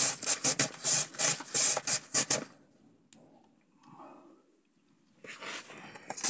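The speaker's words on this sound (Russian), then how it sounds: "Трем морковь на терке по-корейски" Carrots being grated into long julienne strips on a Korean-style carrot grater, a loud rhythmic rasping of about ten quick strokes, then a quiet pause with faint handling before a few more scrapes resume.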